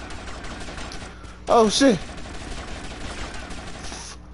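A short, loud burst of rapid gunfire in GTA Vice City Definitive Edition erupts amid steady game background sound, with a voice exclaiming right around it.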